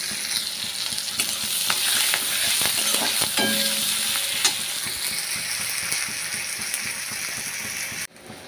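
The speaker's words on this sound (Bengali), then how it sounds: "এবারে পেঁয়াজ কুচিটা দিয়ে দেবো। পেঁয়াজটাকে ভালো করে ভেজে নেব।" Chopped onions fry in hot oil in a pan for egg curry, with a steady close sizzle and occasional scraping and clinking from stirring. There is no talk, and the sound cuts off near the end.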